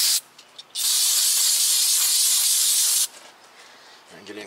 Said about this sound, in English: Spray some brake clean on the cloth.